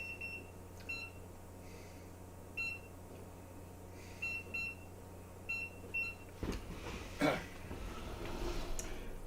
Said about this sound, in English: Let me set this timer.